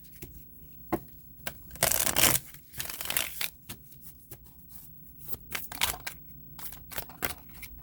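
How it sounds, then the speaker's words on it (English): Tarot cards being shuffled up close, a run of crisp riffling and slapping bursts with brief pauses between, no one speaking. "I'm going to pull a clarifier on the Empress card for you."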